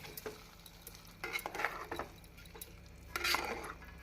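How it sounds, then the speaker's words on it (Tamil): A spoon stirs fried tempering through ven pongal in a pot, giving soft scraping strokes in short bursts with a faint sizzle, quiet and close with no talking. "நாம் பொங்கலுடன் தாளித்ததை போட்டு நன்றாக கலந்து விட வேண்டும்"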